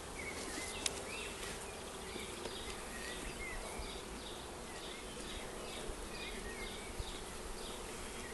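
Honey bees buzz steadily around a bait hive holding frames of fresh foundation, a dense, continuous insect hum close by with no talking.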